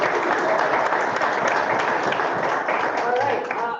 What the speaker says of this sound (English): Everybody, round of applause for staying on.